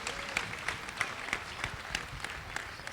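Faint, distant applause from a gathering at a spiritual session breaks out after a picture is presented, with soft scattered claps and a few sharper accents over a low room hum.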